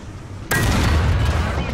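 A tank cannon fires in a tank video game, one sudden loud boom that cuts in after near silence and leaves a sustained rumbling roar in its wake.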